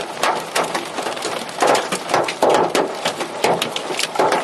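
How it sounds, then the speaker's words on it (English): Huge hailstones falling during a hailstorm, a dense irregular clatter of impacts on surfaces nearby with louder bursts, heard alone without talk. "these hailstones are huge"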